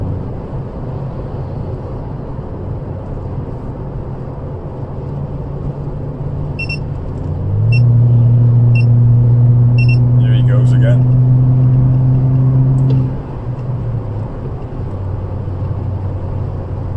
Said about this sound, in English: let's give people the sound of exhausts here.